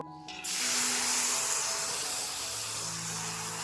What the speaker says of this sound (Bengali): এখন ডালটা সম্বার দিব